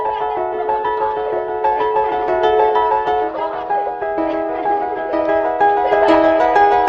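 A piano song played at full speed, with flowing chords and melody at a steady moderate loudness, no voices.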